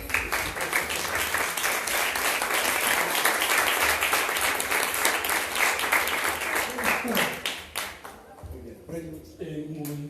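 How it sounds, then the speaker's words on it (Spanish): An audience at a panel discussion gives the panelists sustained, dense applause for about eight seconds, then it thins out and a voice speaks as it fades. "Un aplauso para ellos"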